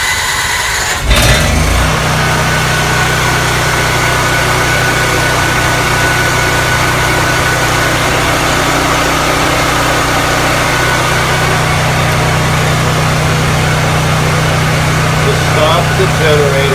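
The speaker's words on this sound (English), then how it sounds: "This is manual run of the generator." An off-grid power generator started in manual mode kicks in after a brief click, then runs at a steady, loud, close hum with a constant low drone for the rest of the clip.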